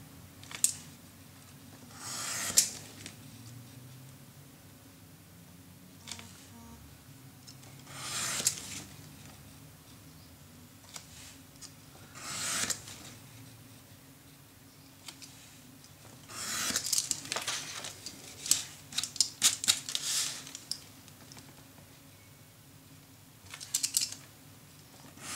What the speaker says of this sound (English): and my knife, and then I am going to cut every inch from the fold line to the bottom.